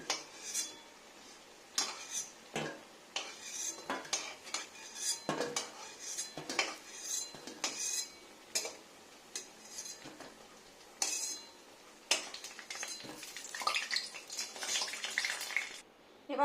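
Fried taro pieces being lifted out of a pan with metal utensils, a run of sharp clinks and scrapes at an irregular pace, close and moderately loud, with no talk.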